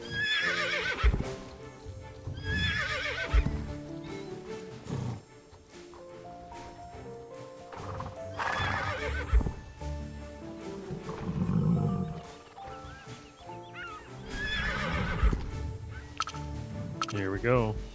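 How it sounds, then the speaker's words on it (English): Horses in a video game neigh and snort repeatedly while hooves clip-clop before a race, with deep roaring grunts mixed in and a person talking over parts of it. "Ooh, that horse is getting rambunctious,"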